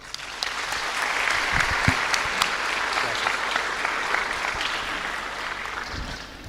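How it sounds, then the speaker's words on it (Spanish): A church congregation bursts into sustained applause, steady and full for several seconds, with sharper individual claps popping out near the front. "un aplauso para el hermano"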